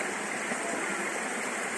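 Waterfall at Huai Nam Chang in Mae Taeng, a steady, dense rush of falling water that stays loud and close for the whole stretch, with no pauses or voices.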